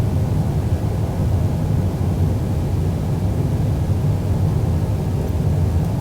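Boeing 787-10 jet engines at take-off in a flight simulator game, a steady, dense low roar holding at an even level throughout with no voices.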